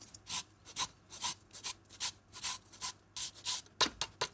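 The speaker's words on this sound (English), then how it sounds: "the zest of half a lemon" Half a lemon rubbed against a fine grater for zest, a run of short, dry rasping strokes in a steady back-and-forth rhythm, close by and with no talk.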